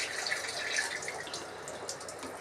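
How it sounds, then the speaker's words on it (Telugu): Water poured into a large cooking pot for chicken biryani rice, a continuous close splashing trickle with a few drip-like accents, steady throughout with no talking. "mummy water వంచేస్తుంది"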